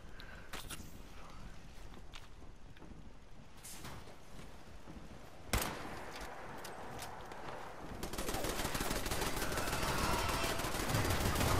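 Automated turret gunfire in the video game Fallout 76: scattered distant shots, one sharper crack, then a sustained, denser burst of rapid fire that builds toward the end, with no voices.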